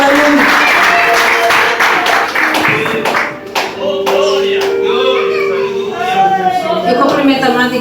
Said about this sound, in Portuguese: Vamos bater mais palmas para o Senhor.